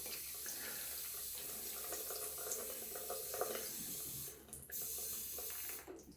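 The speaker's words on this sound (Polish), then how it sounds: "Dodałem trochę wody do węzełka." Running water from a tap trickles steadily onto a shaving brush knot over a sink, a continuous close splashing stream with two brief pauses near the end; no one speaks.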